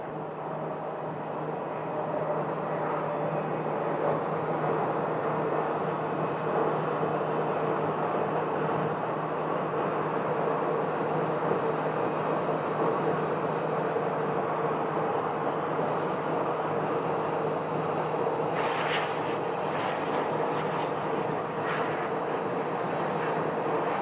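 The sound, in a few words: Frontier airliner landing at Phoenix Sky Harbor Airport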